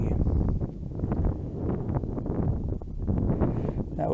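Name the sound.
wind at White Sands National Monument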